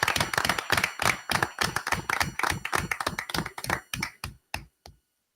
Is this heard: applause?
yes